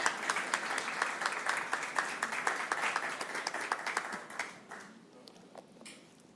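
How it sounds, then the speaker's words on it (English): Audience applause fills a church service hall, dense steady clapping from many hands that fades and thins toward the end. "You can clap again for them because they were good."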